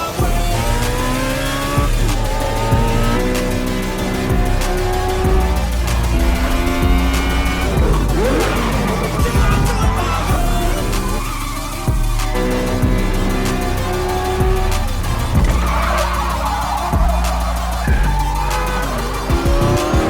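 Koenigsegg Agera cars street racing, with loud high-revving engines shifting up through the gears, tires squealing and skidding, and repeated revving surges over a dense, continuous roar lasting the whole stretch.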